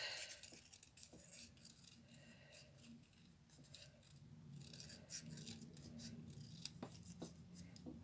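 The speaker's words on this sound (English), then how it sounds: "So I'll just cut out around my swirly pattern like this." Scissors snip around a paper rose pattern with quiet, irregular crisp cuts and rustling, close and faint in an otherwise calm room.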